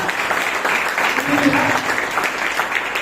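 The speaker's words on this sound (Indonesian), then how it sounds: "Berikan tepuk tangan sekali lagi Tuhan" Congregation at a joint church worship service clapping in praise, a loud, steady burst of crowd applause with some voices mixed in, lasting a few seconds.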